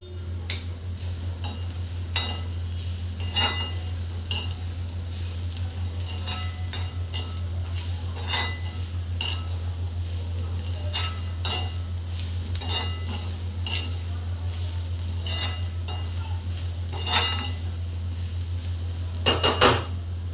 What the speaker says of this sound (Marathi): आणि परतून घेऊया.